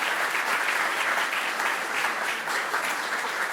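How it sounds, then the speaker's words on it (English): Steady, dense applause from a school showcase audience fills the room throughout, many hands clapping evenly without pause and no voices standing out. "let's give them one more round of applause"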